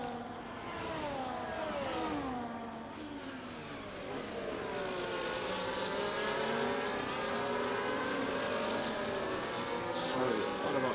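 Can-Am race cars in a racing video game roar down a circuit straight, several engines revving and shifting through rising and falling tones, loud and continuous.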